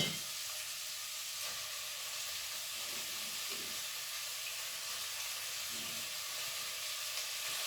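Vegetables fry in a hot pan with a steady, close sizzle and hiss that keeps a constant level throughout, with no talking.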